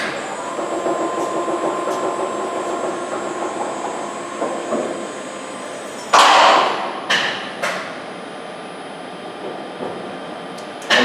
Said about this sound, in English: This tool changer will actually change the tooling setup within 9 seconds.